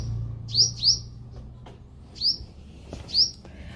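Four short bright bird chirps come in two pairs over a low steady background hum, in an Indian home setting during a morning chat, with no talking.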